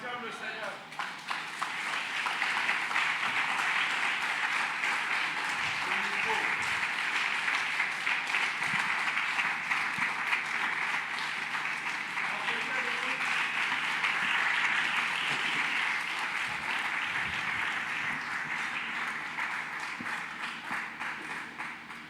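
A church congregation claps and cheers in sustained, dense applause for over twenty seconds, steady and loud throughout, with voices mixed into the crowd noise.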